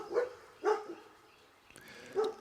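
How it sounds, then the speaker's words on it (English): Dogs barking outdoors at a distance, three separate bark bursts spaced apart with a quiet gap between them, with no talking. "There goes the dogs."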